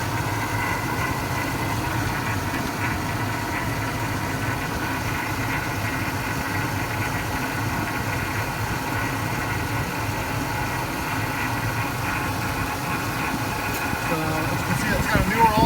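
A 2004 Cadillac Escalade engine idles steadily on a test stand, a close, even low rumble with constant mechanical vibration that holds throughout, a voice briefly audible over it.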